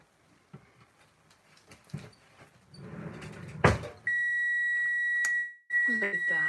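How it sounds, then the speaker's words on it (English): An electronic oven timer beeps with a sustained, piercing tone that cuts off and then starts again, following quieter kitchen handling noises and some talking. "The timer stopped."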